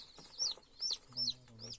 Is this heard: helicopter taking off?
no